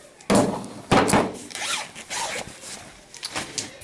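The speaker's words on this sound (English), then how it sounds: "So now I'm going to try to unzip it now." Zipper on a cloth diaper wet bag pulled open in a few quick close rasping bursts, each zip short and bright, with small handling rustles between and no talk.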